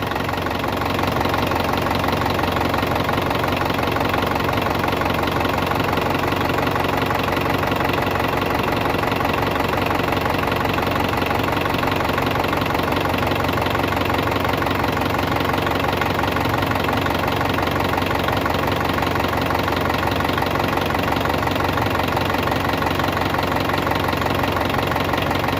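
An engine idles steadily after a top overhaul with a new cylinder head, a loud, even, continuous mechanical hum with a faint knocking rhythm and no voices.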